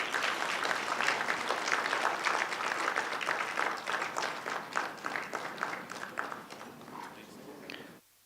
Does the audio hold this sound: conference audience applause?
yes